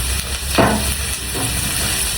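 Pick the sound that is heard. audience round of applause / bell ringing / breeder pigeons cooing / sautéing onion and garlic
sautéing onion and garlic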